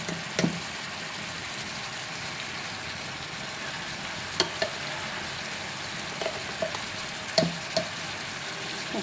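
Ginger garlic paste frying in hot oil in a pan while cooking mutton sukka, a soft steady sizzle broken by several sharp clicks and scrapes of stirring, with no one speaking.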